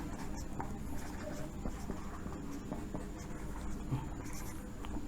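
A pen scratching steadily across paper while accounting entries are written out, continuous close scribbling with small taps and strokes over a low background rumble, no talking.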